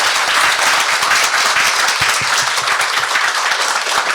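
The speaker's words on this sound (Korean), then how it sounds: "다시 한번 큰 박수" An audience at an autism expo panel discussion applauds the panelists with sustained, dense clapping from many hands, loud and steady throughout with no talking over it.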